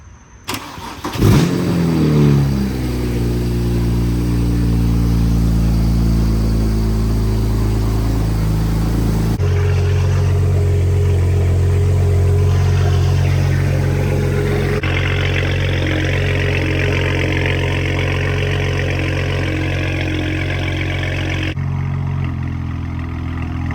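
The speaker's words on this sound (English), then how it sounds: "I'm gonna start it up, give it some revs, and show you guys what the new blow valve sounds like" A BMW 335i engine making 600 whp starts, then holds a loud steady idle and rises through several revs, with a brief whooshing blow-off valve release as the throttle drops.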